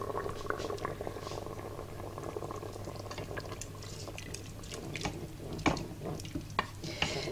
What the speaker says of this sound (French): Je vais remélanger le tout.